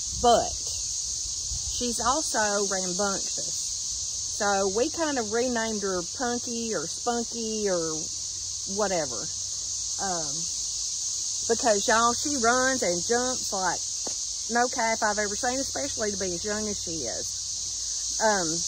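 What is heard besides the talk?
cicadas buzzing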